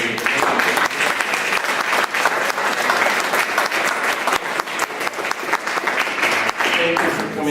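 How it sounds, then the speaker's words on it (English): A lecture audience at a university forum on justice claps loudly and continuously, a thick sustained round of applause with a few sharper individual claps and faint voices mixed in. "How about a round of applause for Sister Joan?"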